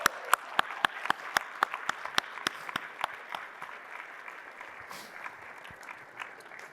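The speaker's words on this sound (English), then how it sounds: "Let's give one more round of applause for these 3 award winners." Audience applause for three award winners at an awards presentation, opening with sharp distinct claps that soften and thin out into scattered clapping over several seconds.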